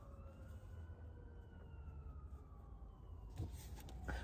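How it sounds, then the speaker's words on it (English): Emergency vehicle sirens wail faintly in the distance, a slow rising and falling tone drifting under low background rumble, with a few louder knocks near the end. "I know you hear those sirens here."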